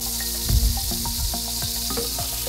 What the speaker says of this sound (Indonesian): Tumis lebih dulu bawang bombaynya hingga layu